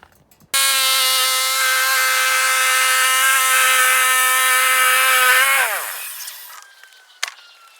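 A bandsaw mill cutting through a log on its final pass: a loud steady whining tone that holds for about five seconds, then winds down in pitch and fades to quiet with a small clunk near the end.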